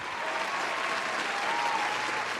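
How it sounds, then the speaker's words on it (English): Continuous, dense audience applause, a steady wash of many hands clapping at even loudness throughout, with no voices over it. "Give her a round of applause."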